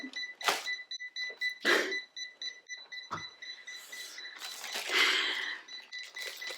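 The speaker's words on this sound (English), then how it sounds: "Quit beeping at me." Repeated high electronic beeps from a CHI Spin N Curl hair curler pulse in a steady rhythm, interrupted by sharp clicks and rustling handling noises close by.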